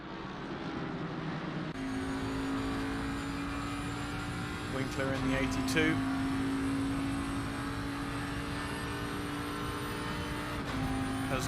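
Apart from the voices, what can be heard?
GT3 race car engines in the video game Assetto Corsa Competizione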